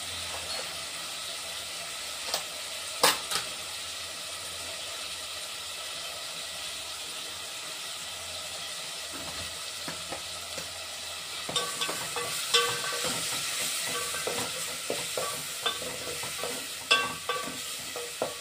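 Curry leaves and spices frying in a pan with turmeric, a steady crackling sizzle broken by scattered sharp pops and the scrape of stirring, growing busier toward the end.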